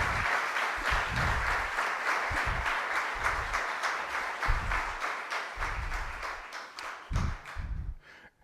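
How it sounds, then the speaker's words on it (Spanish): Sustained audience applause at a socialist political rally in Ateca, Aragón, a dense wash of many hands clapping at steady loudness for about eight seconds before tapering off near the end. "no merece sino nuestro más encendido aplauso y nuestro más encendido reconocimiento."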